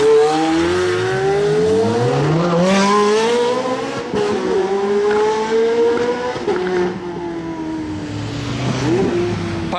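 A modified Lamborghini SVJ with an aftermarket exhaust revs loudly and close by, its engine note climbing and falling, with sharp crackling pops from the exhaust breaking through mid-rev.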